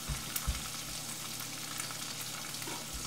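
A cracked egg frying in bacon grease gives a faint, steady sizzle with a couple of soft knocks near the start, quiet and close, with no voices.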